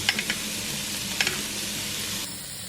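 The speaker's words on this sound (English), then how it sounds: "Just give it a stir for a minute." Minced garlic and grated ginger frying in a pan for a beef curry, with a steady sizzle and a few light stirring scrapes near the start and middle, close and moderately quiet with no talk.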